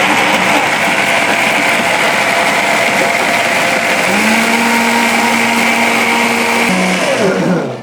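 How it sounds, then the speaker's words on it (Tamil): A mixer grinder whirs loudly and continuously as it grinds chicken masala with salt and pepper, a steady high motor drone close by that shifts pitch midway and winds down at the end. "இப்போ வந்து சால்ட்டு பெப்பர் பவுடரா? ஓகே, போட்டு அரைக்க வேண்டியதான்."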